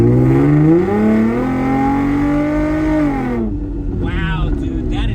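A loud modified Datsun 521 pickup truck engine revs and pulls hard, its droning pitch climbing steadily then easing off as the revs drop, heard from inside the cab.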